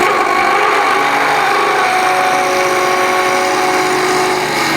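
Skew chisel cutting hard timber on a wood lathe, a loud continuous rattling and scraping grind with steady motor hum, close and unbroken throughout.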